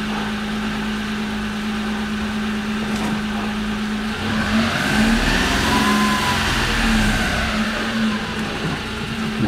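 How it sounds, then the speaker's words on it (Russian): A 2011 Daewoo Matiz 0.8 with a manual gearbox accelerates in second gear, its small engine droning steadily, then rising in pitch and loudness as the revs climb, close by, with no voices. "Включаю вторую передачу."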